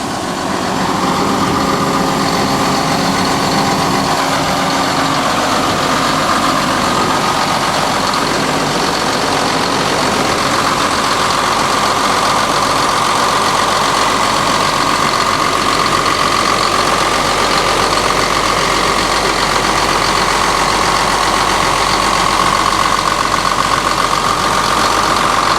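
Mitsubishi diesel engine of an excavator idling nearby, a loud, even mechanical chug with a steady hum that runs unbroken for the full length, no speech.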